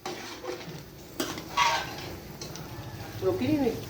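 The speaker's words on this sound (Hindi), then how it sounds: "ये अब हम इसको मिक्स कर लेंगे अच्छी तरह से" Spoon stirring tomatoes and green chilies into aloo baingan in a pan, with scraping and clinking against the pan and a few soft sizzles, close and moderately loud. A voice speaks over part of it.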